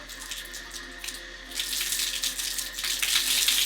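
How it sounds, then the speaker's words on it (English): Water streams steadily from a shower at a safari lodge, a close hiss that swells louder midway and keeps running without pause. "That's your shower."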